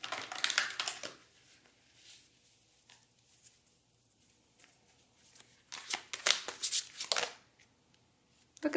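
Tarot or oracle cards are shuffled and drawn in close, crisp bursts of riffling and flicking, a loud flurry at the start, a quiet stretch in the middle, then another vigorous round of shuffling near the end.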